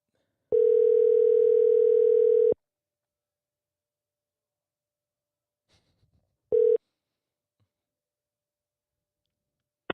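A telephone call rings out with a steady electronic tone lasting about two seconds, then silence and a brief second burst of the same tone, heard alone without talk.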